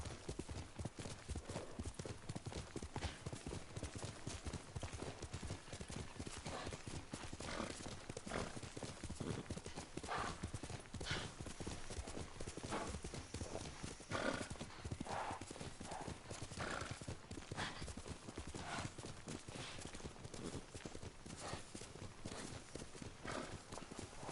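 Several horses carrying riders gallop across open country in the samurai video game Ghost of Tsushima, with continuous rapid hoofbeats and an occasional whinny, and someone speaks faintly beneath them.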